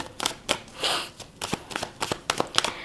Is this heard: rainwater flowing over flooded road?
no